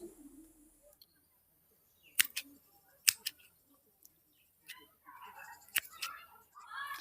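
Sharp cutter snipping through spider plant runners: a few crisp, isolated snips spaced across several seconds, close and clear against a quiet background with faint rustling of leaves.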